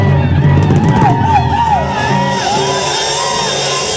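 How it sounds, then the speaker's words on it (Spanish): A crowd shouting the drunkards' cry, loud overlapping yells and whoops rising and falling over about two seconds, then fading into general crowd noise. "A ver ese grito de los borrachos."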